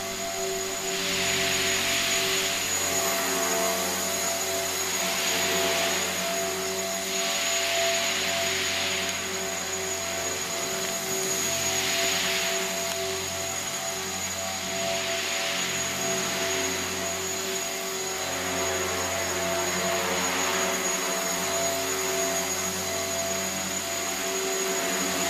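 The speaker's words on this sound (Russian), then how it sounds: "Вертолет прекрасно поддается пилотированию." A steady, loud engine roar with a pulsing whine, like a helicopter in flight heard from inside, continuous with no voices.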